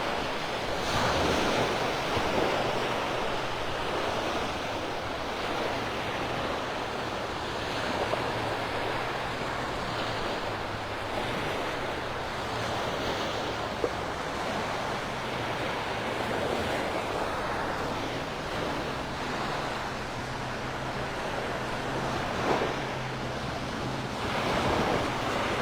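Ocean surf washes steadily onto the sand at Delnor-Wiggins beach in North Naples, Florida, at sunset, a continuous broad roar with wind buffeting the microphone, loud and unbroken without talk.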